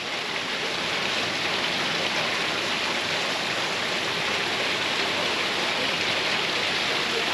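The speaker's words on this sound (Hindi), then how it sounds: "ऊपर पाइप में से कैन में पानी गिर रहा है, कैन में से फिर पाइप से नीचे ड्रम में आ रहा है" Water pours steadily from a pipe into a can and on down into a drum at a village water point in Kashmir, a continuous close, loud splashing rush with no voices.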